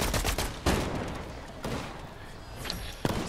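Video-game gunfire in a shooter match: loud, rapid bursts of shots with sharp repeated cracks and thuds, firing in several spurts.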